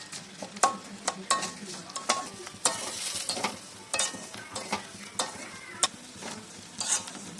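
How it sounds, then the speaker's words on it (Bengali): Mixed dal ingredients, red lentils among them, are stirred in a pan. A spoon scrapes and knocks in irregular strokes over a soft, steady sizzle. The sound is close, with no talk. "এবার সমস্তটা ভালোভাবে মিশিয়ে নাড়তে হবে।"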